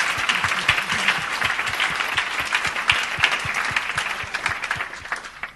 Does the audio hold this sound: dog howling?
no